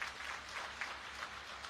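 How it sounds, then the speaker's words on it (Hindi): Audience at a public welcome event in Ayodhya claps steadily in a dense, moderately faint wash of applause with no voices over it. "तालियां बजा करके"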